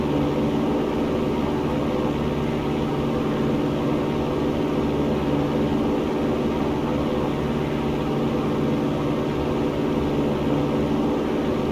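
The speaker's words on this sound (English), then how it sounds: "We have power available for takeoff" A light aircraft engine runs at full takeoff power while climbing out on runway heading, a loud, steady, unbroken drone that fills the whole stretch with no talk.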